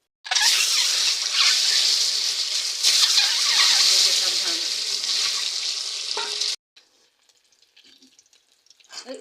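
Eggs fry in a pan with a loud, bright, crackling sizzle close by for several seconds, then it abruptly drops away to near quiet with faint clinks.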